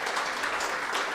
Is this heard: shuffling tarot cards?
no